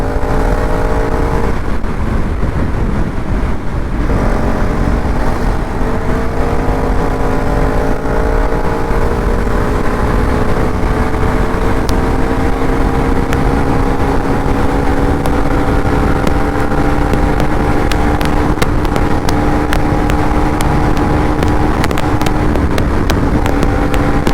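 KTM Duke 390 Gen 3 motorcycle engine while riding, a loud, steady drone rising in pitch through repeated gear-by-gear accelerations, close and continuous with wind rush.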